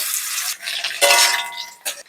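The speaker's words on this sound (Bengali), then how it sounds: "কড়াই সর্ষে তেল দিয়ে দিচ্ছি। তেল গরম হয়ে গেছে, প্রথমে আমি উচ্ছে ভেজে নিচ্ছি।" Bitter gourd fries in hot mustard oil in a wok, giving a loud, close, hissing sizzle that swells and fades in short surges, with a brief stirring scrape.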